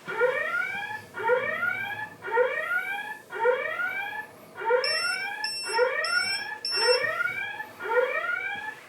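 A smart water leak detector alarm in a kitchen gives a rising electronic chirp about once per second, eight times in steady rhythm, with a few high beeps joining partway through.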